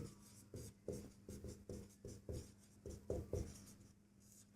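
Pen strokes scratch across paper at a near, steady pace, a series of short writing bursts with brief pauses as a geometry proof on a trapezium is written out.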